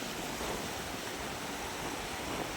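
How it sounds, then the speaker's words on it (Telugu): Sea waves rush in continuously with a loud, broad roar and no pauses, sounding close by, at Manginapudi Beach near Machilipatnam. "బాగా స్పీడ్గా వస్తున్నాయి అలలు"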